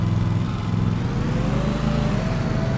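A riding lawn mower's engine rumbles steadily and close by, driven straight off a trailer without ramps, with no talking.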